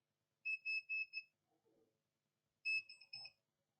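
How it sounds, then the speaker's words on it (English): A digital multimeter beeping while an AC mains cable is tested: two bursts of quick, shrill electronic beeps, four in the first burst and three in the second, with faint handling noise between them in a quiet room. "My multimeter is responding. You can hear the beep."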